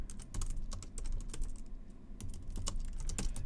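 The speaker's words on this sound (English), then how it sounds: "I'm reading this as I'm typing it out." Rapid typing on a computer keyboard, close and clear, with irregular bursts of sharp key clicks and short pauses, no voices.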